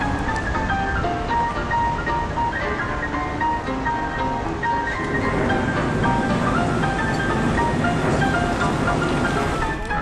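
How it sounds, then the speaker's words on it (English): Car driving in heavy traffic, a steady rolling road rumble with faint tonal hums and passing vehicle noise, continuous and without speech. "So we're driving now. Pretty heavy traffic."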